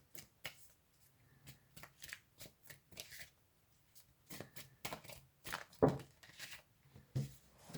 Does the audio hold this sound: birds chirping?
no